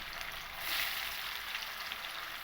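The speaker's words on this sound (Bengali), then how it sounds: "আমি পনিরটাকে একটু লালচে কালার করে ভেজে নেব" Paneer pieces fry in mustard oil in a wok with a steady, close hiss of sizzling that swells briefly early on and then settles, with no voices.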